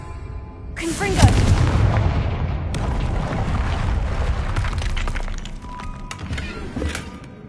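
Confringo fire spell explosion in the Hogwarts video game, a heavy booming blast with shattering debris that rumbles on and fades over several seconds, with a voice speaking at the start.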